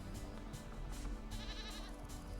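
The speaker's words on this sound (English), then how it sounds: "goats aren't supposed to baa like sheep" Goats in the survival game Vintage Story bleat like sheep, several quiet repeated baas in a row over a steady low background.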